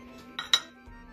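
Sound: baked pumpkins taken out and laid on a dish

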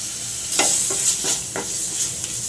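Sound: stirring sandwich filling with vinegar, onions and lemon

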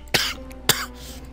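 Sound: character coughing in a video game

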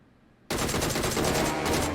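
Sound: MR rifle gunfire hitting the player in a video game

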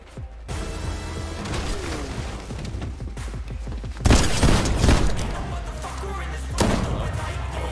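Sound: gunfire in the video game Fortnite

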